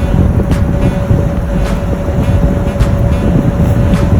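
Strong wind buffets the microphone along the beaches of Cox's Bazar, a loud, constant roar with low rumbling gusts and no voices.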